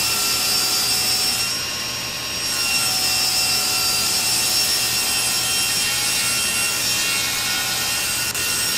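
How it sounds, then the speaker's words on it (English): A table saw makes a steady, continuous trimming cut along sheet material guided against the fence, a loud sustained whine and rasp throughout with a brief dip in level partway through. "So first I run my factory edge against the fence and make one parallel trimming cut."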